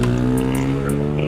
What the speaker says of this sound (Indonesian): Berisik knalpot ada.